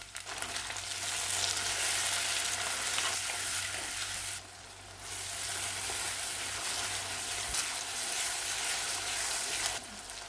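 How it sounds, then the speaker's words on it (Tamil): Steady sizzling of onions sautéing in a clay pot, a broad crackling hiss that briefly drops and resumes, close-up with no voices. "வெங்காயம் நல்லா வதங்கிடுச்சு"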